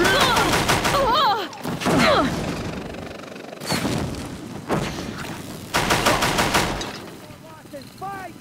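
Heavy automatic weapon fire from the Deathbringer gun in Horizon Zero Dawn, loud rattling bursts repeating over several seconds, with voices and game sounds mixed in between volleys.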